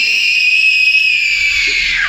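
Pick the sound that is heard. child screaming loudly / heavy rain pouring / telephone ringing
child screaming loudly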